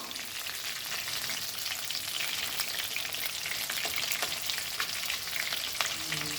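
Chicken pieces fry in hot oil, making a continuous dense crackling sizzle with occasional light clicks as the pieces are turned, close and steady throughout.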